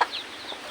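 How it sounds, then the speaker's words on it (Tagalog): A single brief chicken cluck close by, short and moderately loud, followed by faint quieter bird sounds in an otherwise calm outdoor setting. "bakit may manok."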